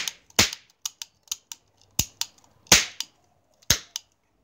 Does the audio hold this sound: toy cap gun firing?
yes